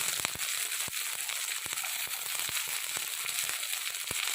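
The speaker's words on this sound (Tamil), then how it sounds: "கடுகு உளுத்தம் பருப்பு நல்லா சிறந்து பொரிஞ்சிருச்சு" Mustard seeds and urad dal splutter in hot oil while tempering for a yam masiyal, a dense crackling hiss punctuated by sharp irregular pops, close and fairly loud, with no voices.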